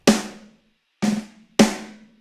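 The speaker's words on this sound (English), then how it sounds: "I'm gonna add some extra snare hits throughout the pattern where I'm trying to emulate a drum player hitting their snare very lightly" Three crisp, loud sampled snare strikes from the MT Power Drum Kit ring out alone, each with a short bright decay, the second and third coming closer together.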